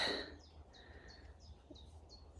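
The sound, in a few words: birds chirping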